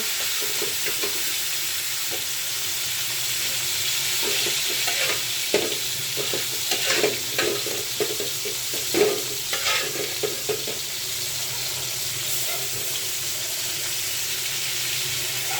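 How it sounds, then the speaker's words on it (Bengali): Coral fish pieces frying in hot oil, a constant loud sizzle with bursts of sharper crackling and spatula scrapes in the middle as each piece is laid in, no talking. "মাছটা তেলের উপরে ভাজতে চলে আসলাম একটা একটা করে দিয়ে দিচ্ছি"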